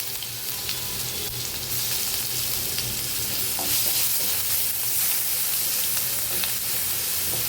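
Garlic sizzles steadily in hot oil in a pan, a bright, continuous frying hiss heard up close with occasional stirring scrapes.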